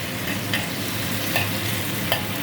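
Bitter melon and sliced chicken with salted black beans cook down in a pan until the broth dries, a steady close sizzle with a few soft scrapes of stirring.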